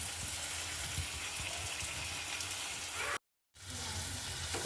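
Dry prawns, soaked and drained, go into a curry frying with onions, and a steady loud sizzle and hiss fills the pan, cutting out briefly before the frying noise resumes.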